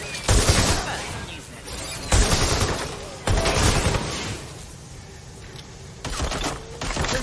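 Gunfire in Watch Dogs: Legion comes in several loud, dense volleys separated by brief lulls, with heavy low-end weight and what may be faint voices in the background.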